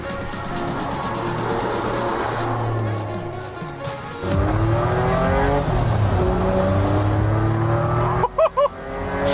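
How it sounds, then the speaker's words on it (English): A 1993 Jaguar XJ220 sports car drives hard, its engine revving up and down through several gear changes, with brief tire squeals and a couple of sharp bursts near the end, loud and close. "This is the 1993 Jaguar XJ220. One of the most iconic cars ever made."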